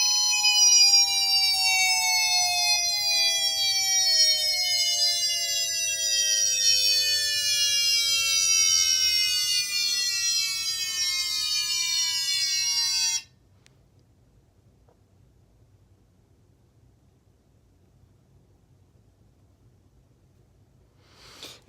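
A Federal Signal SiraTone electronic siren sounds an alert tone that imitates a mechanical siren, a loud buzzing wail that slowly falls in pitch for about thirteen seconds, then stops abruptly into near silence.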